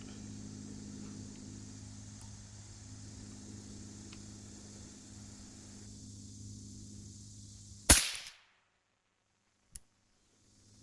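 A single sharp, loud rifle report cracks out while zero is rechecked on a target during a hog hunt, after a low engine-like hum. It cuts off abruptly, and a fainter click follows about two seconds later.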